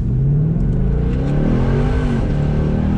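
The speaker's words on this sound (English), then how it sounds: "I just put some new tires on. I just did a burnout" A 2018 Ford Mustang revs its engine hard during a burnout on new tires, a loud, continuous close-up engine roar with the pitch climbing and falling, and no talking.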